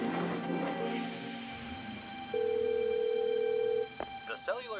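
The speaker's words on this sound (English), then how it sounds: "Come on, answer the phone." Telephone ringing tone on an outgoing call: a single steady tone holds for about a second and a half, with a short click and voices before and after it.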